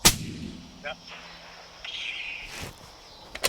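A rifle shot heard from across a creek outdoors, a sharp distant crack at the start followed by faint echoes, with quiet outdoor ambience and a brief voice in between.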